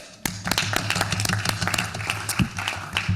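An audience applauds at the closing session of an inclusive housing summit, a sustained patter of many hands clapping at moderate loudness, with a few louder claps close by.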